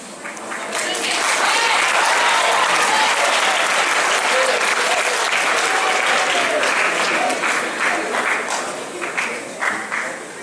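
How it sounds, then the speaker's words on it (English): Loud, sustained crowd applause at a Central High School gathering, a dense wash of many hands clapping that holds steady for about ten seconds before thinning slightly at the end. "There should have been an overwhelming applause when I asked that question."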